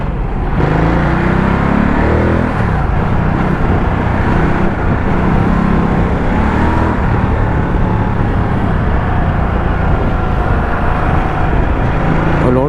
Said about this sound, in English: see, that's the second time it stalled.